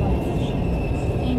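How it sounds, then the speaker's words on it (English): Passenger train running between Lahore and Islamabad, heard from inside as a steady low rumble and rolling drone with a faint high whine, continuous throughout. "this train is absolutely amazing, you know, absolutely amazing"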